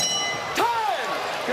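A boxing round-ending bell rings once, a bright metallic strike with a ringing tone that fades over about a second, heard over steady arena crowd noise during a heavyweight fight.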